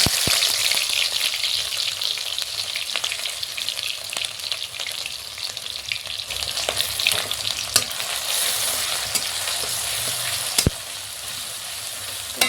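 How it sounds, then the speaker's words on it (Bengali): Dried red chili, cumin and crushed onion, garlic and ginger frying in hot oil, giving a dense, continuous close-up sizzle with occasional stirring clicks and sharp spits and no talk. "এর মধ্যে একটু শুকনো লঙ্কা ফোড়ন দিয়ে দিলাম জিরে ফোড়ন দিয়ে দিলাম আর এই যে থেতো পেঁয়াজ রসুন আদা পেঁয়াজ"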